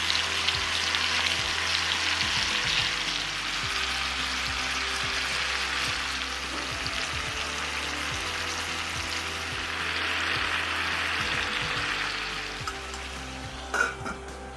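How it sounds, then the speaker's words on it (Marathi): Marinated tandoori chicken frying in a pan, a steady loud sizzle and crackle that holds throughout, with a faint knock near the end. "जे मॅरिनेट केलेलं चिकन होतं ते आपण ह्या पॅनमध्ये घालून घेऊयात आणि आता हे आपल्याला शिजवून घ्यायचं आहे"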